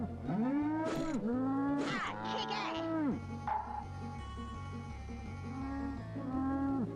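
Cartoonish cow moos repeat from a South Park game on the Nintendo 64, rising and falling tonal calls layered over game music while someone talks and exclaims.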